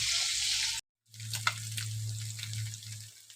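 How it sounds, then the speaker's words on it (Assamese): Small fish frying in hot oil, a steady hissing sizzle that cuts out briefly, then resumes close and continuous with a low hum beneath and a few crackling pops. "তেনেকুৱা মাছবিলাক এনেকৈ তেলতে ভাঙি পেলাই"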